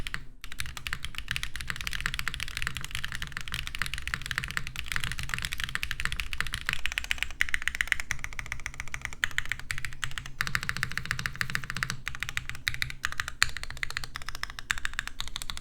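Rapid, steady typing on a Glacier80 mechanical keyboard with stock long-pole switches and no foam, close and clacky, keystrokes tumbling in a continuous stream with no talking.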